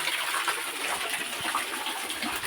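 Steady rushing water from a waterfall by a cave pours continuously, a full, even wash of splashing flow with no pauses, close and fairly loud.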